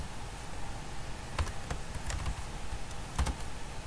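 A computer keyboard being typed on in short bursts of clicky keystrokes, close and moderately quiet over a steady background hum, with no speech.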